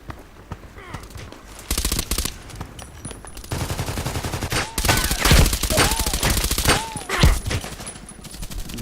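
Rifle fire from the Contract Wars video game crackles in bursts of sharp reports, some quick strings and single shots, loud and close against background game noise with no talk.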